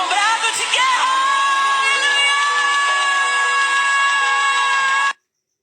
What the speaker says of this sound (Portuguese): Vamos aplaudir ao Senhor com brado de guerra.